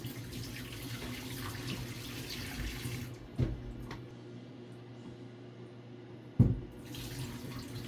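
Tap water runs steadily into a sink while a film developing tank is washed, then stops abruptly, leaving near silence broken by a couple of sharp knocks before the running water returns.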